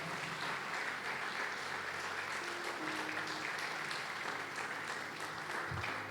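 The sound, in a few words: congregation applause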